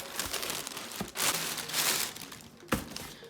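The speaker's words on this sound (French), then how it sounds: "reçu enfin la commande MyProtein. On va déballer tout ça." A MyProtein supplement order is unwrapped, with loud, close crinkling and rustling of plastic packaging in several bursts and a sharp crackle near the end.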